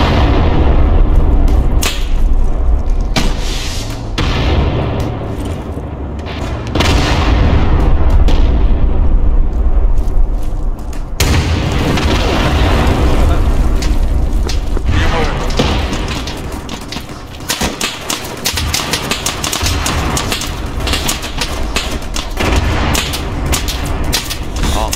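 Continuous heavy explosions and artillery fire in the military video game ArmA, a dense, loud rumble of booms and blasts that runs throughout with voices talking over it.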